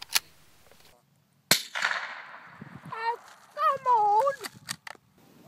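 A single sharp gunshot cracks on a snowy farm as someone shoots an ear of corn, followed by a burst of reaction and excited voices and laughter right after.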